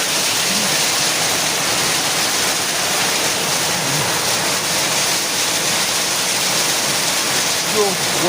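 Heavy hailstorm rain pours down in Nairobi as a dense, constant roar of water with no gaps, loud and steady throughout.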